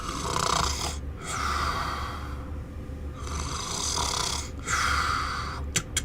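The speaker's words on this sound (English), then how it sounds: "You hear snoring as you approach." Loud, rasping snores repeat in a slow, steady rhythm, each long inhale rattling close by, with brief quiet gaps between breaths.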